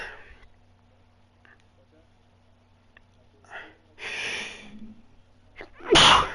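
A single sudden, loud sneeze bursts out near the end, preceded by a quieter breathy sound and faint voices over a low background hum.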